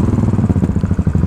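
A Royal Enfield Continental GT motorcycle engine runs close by, a steady pulsing thump with rapid regular beats throughout, loud and alone with no talk.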